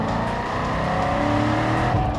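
The 8.2-liter V8 of a Pratt & Miller C6RS road-going race car thumps steadily from inside the well-insulated cabin, a loud, even low rumble with a slight rise in revs near the end and no talking.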